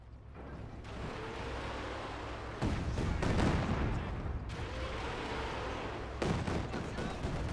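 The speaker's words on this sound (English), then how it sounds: "More bombardment." Artillery bombardment in the World War II strategy game Company of Heroes 2, German forces against Soviet: a dense, continuous rumble of distant gunfire, broken by two heavy, loud shell bursts a few seconds apart.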